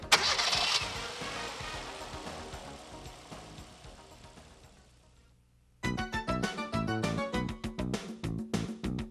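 A car engine cranks and fires up with the ignition, opening with a loud catch that settles into a fading idle, followed by a different rhythmic sound near the end.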